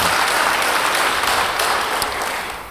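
A church congregation claps during a sermon, a broad, loud wash of applause that stays even and then fades toward the end.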